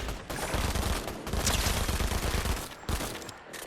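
Automatic gunfire in the video game Fortnite comes as a dense, loud burst of rapid shots that continues almost without a break, with only brief gaps.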